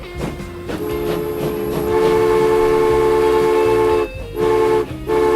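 Train in the railway game Transport Fever rumbling along with a loud, sustained horn-like tone, the blare cutting out briefly near the end and then returning.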